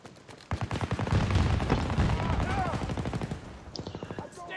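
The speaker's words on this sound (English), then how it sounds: "I'm gonna try the DXR-1. The sniper rifle." Rapid bursts of gunfire in the Battlefield 2042 video game while using the DXR-1 sniper rifle, loud sharp repeated shots with a dense battle din and brief voices underneath.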